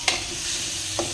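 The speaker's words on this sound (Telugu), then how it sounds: "హోల్ గరం మసాలా, ఇందులోకి లైట్గా పసుపు అండ్ సాల్ట్ యాడ్ చేసుకొని మనం ఇలా ఫ్రై చేసుకోవాలి" Whole garam masala spices frying with turmeric and salt in hot oil, a soft steady sizzle with two quick stirring clicks near the start and end, close and without voices.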